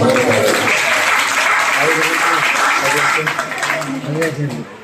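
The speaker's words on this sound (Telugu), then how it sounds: "గట్టిగా చప్పట్లు కూడా మాకు" Loud, steady applause from a church testimony gathering fills the clip, with a voice audible underneath; the clapping eases off slightly near the end.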